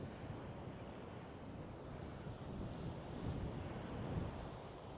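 Sea waves wash on a shore in a continuous low roar, broad and steady with gentle surges, buffeted by wind noise on the microphone.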